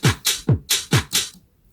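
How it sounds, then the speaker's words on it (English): A soloed drum loop from a track breakdown, with the percussion loop removed: punchy kick and snare-like hits in a steady, evenly spaced pattern, each with a bright hi-hat top, about six hits before it cuts out. "so this is what the drums sound like without the percussion loop."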